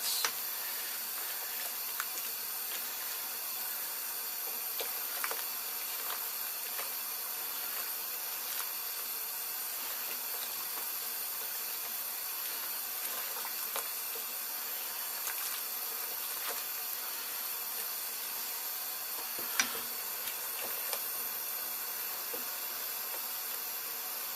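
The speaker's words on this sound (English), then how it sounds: "Sanitize it, give it a boil for 5 minutes." A pot of dextrose solution boiling for a home-brewed pale ale gives a steady, continuous hiss like rushing steam, with scattered small pops and ticks throughout, moderately quiet and unbroken by any voice.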